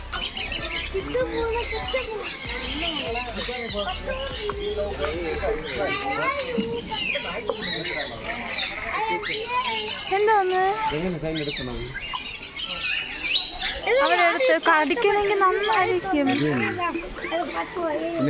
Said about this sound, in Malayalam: കുറേ കിളികൾ ഇങ്ങനെ ഇരിപ്പുണ്ട് കേട്ടോ അവിടെ മൊത്തം ശബ്ദമാണ്